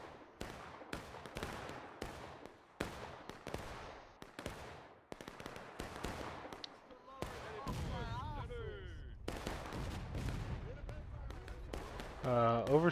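Artillery cannon fire in a video game booms repeatedly as sharp, evenly spaced blasts, later mixed with a spoken voice and overlapping game sounds.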